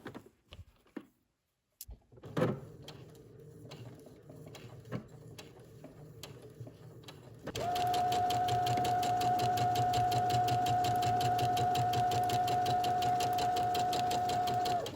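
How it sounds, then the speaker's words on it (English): A sewing machine stitches the placket of a shirt dress, starting at the fold, with a few faint handling clicks and taps before the motor kicks in and runs in a loud, steady whir. "we're going to sew starting at the fold"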